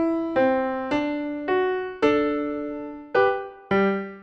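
Piano playing the left-hand part of the Baby Einstein theme, six separate struck notes and chords at a slow, even pace, each ringing and decaying before the next, close and clear with no voices.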